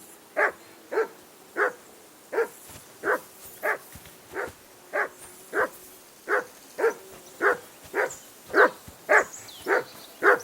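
A dog in the medieval video game Kingdom Come Deliverance 2 barks repeatedly at the player, about sixteen evenly spaced single barks at a moderate distance over a quiet background.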